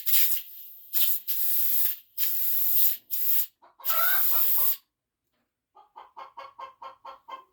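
Compressed air bursting from the vent valve of an ORI suspension strut in repeated loud hissing spurts of varying length, then a quick series of short sputtering puffs.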